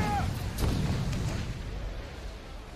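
Gunfire in the video game Assassin's Creed Freedom Cry: a few booming, cannon-like shots in the first second, then a dense rumbling bed of battle noise that slowly fades, with no voices over it.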